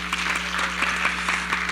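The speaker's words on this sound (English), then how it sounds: "Give her a round of applause" Audience applause at a non-profit symposium, a steady dense patter of many hands clapping throughout, with a constant low hum underneath.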